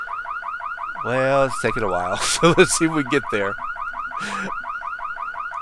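In a video game, a burglar alarm rings with a steady, looping electronic wail throughout, while someone talks over it.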